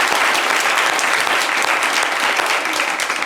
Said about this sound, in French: même applaudissez pour Fidèle